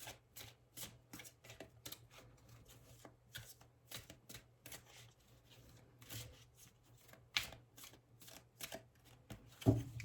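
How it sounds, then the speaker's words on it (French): A deck of tarot cards being cut and handled at a reading, with a quick series of crisp card flicks and soft slaps repeating at close range, no voices. "on va faire une coupe avec ce jeu"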